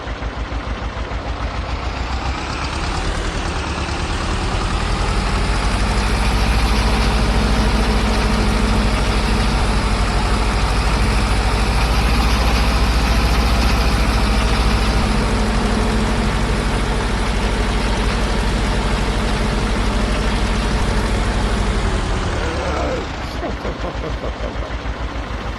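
A tractor engine in Farming Simulator 22 drones steadily at low speed, a loud continuous rumble with a deep hum that holds for over twenty seconds before easing off near the end.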